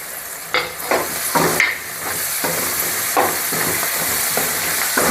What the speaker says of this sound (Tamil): இந்த ஸ்டேஜில் நம்ம இது கலக்கும்போது வெங்காயம் கூட இந்த புதினாவும் கொத்தமல்லியும் கலந்து நம்ம வதக்கி வரும்போது